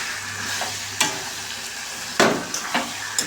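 Raw chicken pieces hitting hot oil in a home kitchen pan, a steady close sizzle broken by sharp bursts as pieces drop in and get stirred, no voices.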